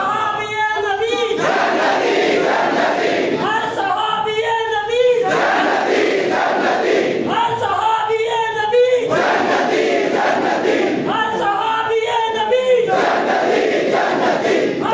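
A large crowd at a religious gathering honouring Hazrat Abu Bakr Siddique chants a slogan (naara) in loud, repeated voiced bursts every few seconds over continuous roaring crowd noise.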